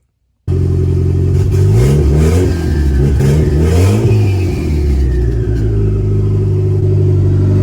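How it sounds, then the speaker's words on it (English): A car engine, fitted with a budget boost controller, starts abruptly and revs up and down in several loud, close swells as it warms up, then settles into a steady idle rumble. "I'm going to drive the car around a little bit here, and I'm going to get it warmed up"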